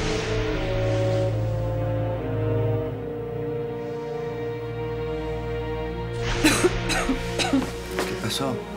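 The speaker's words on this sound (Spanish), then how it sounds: "tengo tos" A man coughs several times in a Spanish-language telenovela scene, sharp harsh bursts near the end of the clip over a swelling music score.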